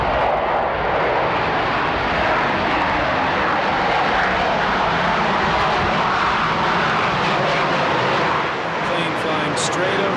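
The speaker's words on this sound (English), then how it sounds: "Plane flying straight overhead." An airplane passes straight overhead above the 2001 US Open tennis courts, a loud, sustained engine roar that fills the whole stretch and fades slightly near the end.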